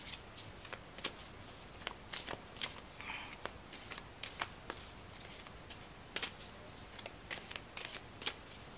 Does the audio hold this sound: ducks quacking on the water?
no